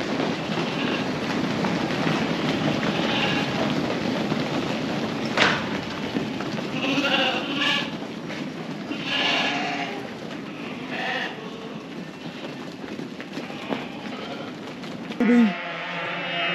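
Lambs bleating in the yards of a sheep farm: several separate calls rise at intervals over a steady, busy background hum, with one louder, closer bleat near the end.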